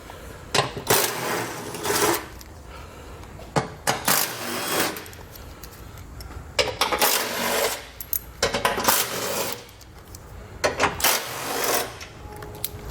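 A 13mm socket backs bolts out of a heavy metal base plate panel on a vehicle, giving repeated bursts of rapid ratcheting clicks, close and fairly loud, separated by short pauses.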